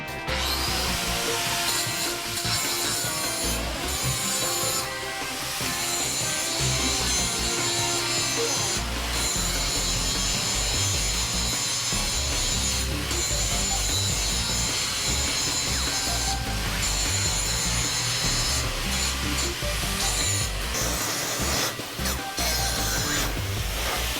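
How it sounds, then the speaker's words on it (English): A tool scrapes and grinds dross and mill scale from the beveled edge of a steel plate before welding, making a steady, continuous abrasive rasp that runs without a break, close and loud, with no talk. "he's going to clean any of the dross and mill scale from the plate"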